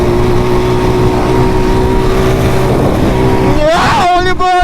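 Heavy traffic at Half Way Tree, Jamaica, with a loud engine droning close by before a car sweeps past near the end, its pitch bending as it goes.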